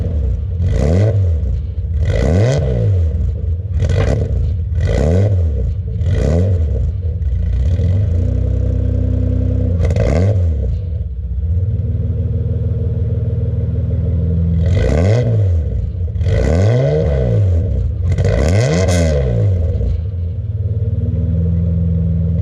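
A warmed-up car engine, fitted with a locking differential, is blipped repeatedly, giving about eight loud, close revs in an uneven rhythm over a steady idle, with no talking.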